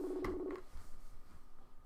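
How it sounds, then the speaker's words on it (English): A telephone rings once with a steady electronic tone, then stops; faint room noise follows, with no voices. "You didn't tell me it was ringing."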